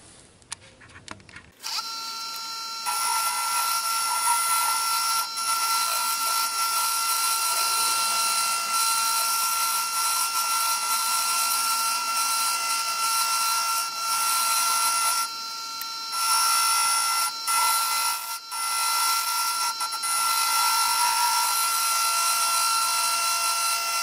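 Woodturning on a lathe, a tool cutting the outside of a segmented wooden bowl: a steady, bright scraping and hissing cut that begins after a short quiet start and runs continuously, with a brief dip near the middle.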